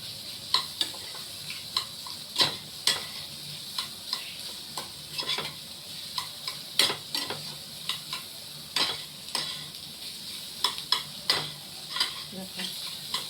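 Pumpkin pieces fry in a pan with a steady soft sizzle. A utensil scrapes and taps against the pan in a repeated rhythm at close range, with no voices.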